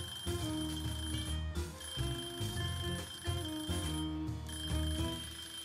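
Kitchen timer alarm in the game Cooking Simulator, a bright ringing bell-like tone repeating in rhythmic bursts with short gaps, loud and alone for several seconds.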